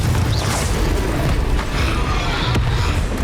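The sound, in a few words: Confringo fire spell exploding, from video game Hogwarts Legacy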